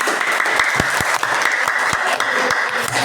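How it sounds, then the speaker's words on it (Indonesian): A classroom audience claps for several seconds, dense and fairly loud, a steady burst of many hands with no one talking over it. "Silakan beri aplaus."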